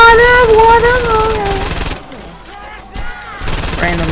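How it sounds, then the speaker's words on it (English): Gunshots in the open-world game Saints Row 2: a few sharp bursts of fire under music and game sound, with a brief quieter gap broken by isolated reports. "Random shots, and 2 more"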